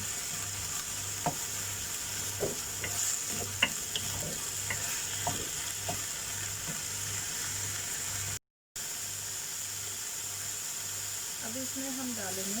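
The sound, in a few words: stirring prawn masala frying in pan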